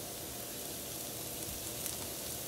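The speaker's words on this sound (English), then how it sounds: "I'm gonna move my onions that are still sauteing" Onions sauté in a pan with a soft, steady sizzle, a faint even crackle that stays low and close, with no voices over it.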